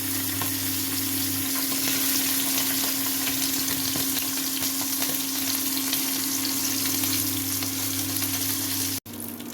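Tilapia and rohu fish fry in a wok over low heat, giving a loud, steady crackling sizzle with stirring, with no talking and a brief drop-out near the end.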